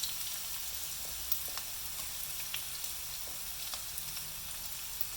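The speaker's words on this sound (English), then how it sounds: "The next thing we want to fry will be the onions or the shallots." Onions or shallots frying in oil, a steady soft sizzle with faint crackles popping up here and there, fairly quiet and with no voices.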